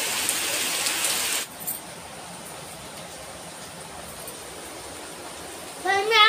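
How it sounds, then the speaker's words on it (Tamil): Heavy rain falls in a dense, steady hiss of broadband noise that runs throughout, louder in the first second, with a brief voice-like sound near the end. "செம்மையான மழை பெய்யுது கண்டோம்."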